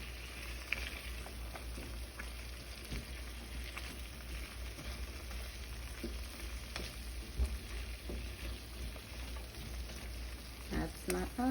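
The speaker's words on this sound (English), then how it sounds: "Now let the onions cook with the salmon." Onions frying together with salmon in a frying pan, a steady low sizzle and crackle continuing throughout at a quiet, close level, with faint stirring noises and a brief voice near the end.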